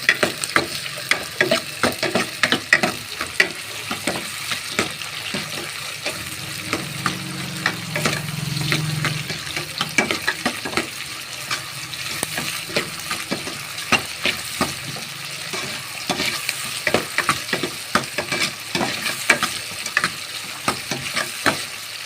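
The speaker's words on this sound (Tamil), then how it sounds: "தக்காளி போட்டு நல்லா வதக்கணும்." Tomatoes added to browned onion sizzle and crackle in a hot pan, with steady frying hiss and frequent sharp stirring scrapes and clicks throughout.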